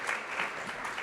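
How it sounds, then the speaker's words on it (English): Brief, fairly quiet audience applause at a live-streamed conference, a soft continuous patter of many hands heard at some distance with no voices on top. "Give her a round of applause."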